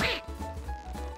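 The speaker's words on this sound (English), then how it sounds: "We have a rubber ducky swing. It quacks when you swing it really fast." A rubber ducky swing gives off a short nasal quack as it swings fast, a single squeaky honk followed by a few softer buzzing pulses, close and brief.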